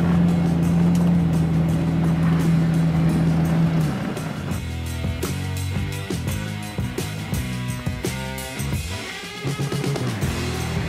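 A 1980 Datsun 280ZX with its Nissan engine running, giving a loud, steady idle drone for about four seconds before the tone shifts and turns more uneven, with no talking.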